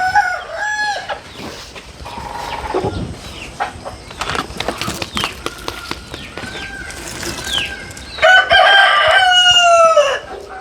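Native country chickens on a Ramanagara family farm, with a rooster crowing loudly and close: one long crow opens, scattered clucks and fowl noises follow, and a second strong crow rises near the end.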